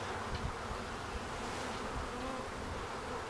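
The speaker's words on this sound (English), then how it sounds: "So these bees are all covering the queen cage" A dense, steady buzz of many honey bees from a newly installed package, clustered around the queen cage, fills the space at close range, continuous and even, with no voices.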